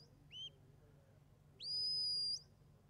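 Sheepdog handler's whistle commands at an International Supreme qualifying trial: a short two-note whistle, then a longer, louder sustained shrill blast, both clear over a quiet background.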